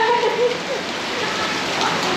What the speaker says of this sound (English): But it is raining outside heavily